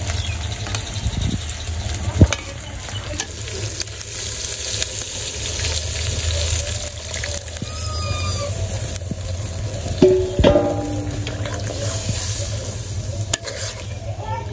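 Chicken pieces sizzle as they are sautéed in a pan, a steady frying hiss with scattered spatula scrapes and a few sharper knocks near the middle, close and continuous.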